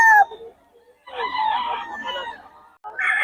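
Chickens and a rooster at a fowl pen, with short crowing calls and clucks in separate bursts, close by and fairly clear.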